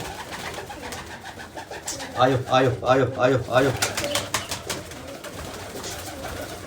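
Pigeons coo in low, repeated bursts while a person nearby calls out over and over in a rhythmic voice.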